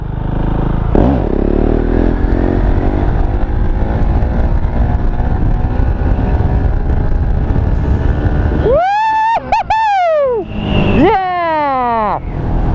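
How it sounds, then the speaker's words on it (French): A KTM Duke 690 motorcycle engine drones steadily, then revs hard in rising and falling bursts as the bike accelerates into a wheelie, loud and close. "Bon allez, un beau petit wheeling."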